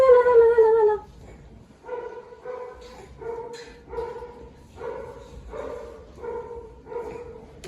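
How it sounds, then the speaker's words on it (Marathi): A dog barks repeatedly at a distance in a quiet home, a string of short yips and barks in an irregular rhythm following a child's cry at the start. "कुत्र भुकतय आता"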